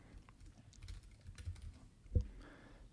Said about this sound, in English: let's type a plant name just to make it